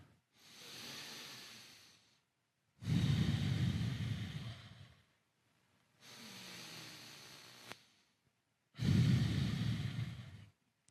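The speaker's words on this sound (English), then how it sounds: "breathe in and out of your nose" Four slow, even breaths through the nose during a beginner yoga pose, alternating inhales and exhales with short pauses between them. The breaths are close-miked and fairly loud, with no talking.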